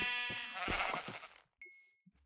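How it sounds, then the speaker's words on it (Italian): A Minecraft sheep gives a loud, close, wavering bleat that trails off, followed by a quiet game chime and small soft sounds, with no talking. "Dove è finita la pecora?"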